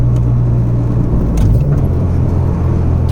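A car with an aftermarket eBay K Tuned B/D short shifter installed drives along, its engine and road noise forming a loud, steady low rumble with a faint rattle throughout.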